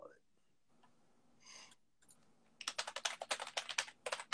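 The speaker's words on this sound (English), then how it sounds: "you're a rapid typer" Rapid typing on a computer keyboard, a fast close clatter of keystrokes after a few scattered taps, with people talking quietly beforehand.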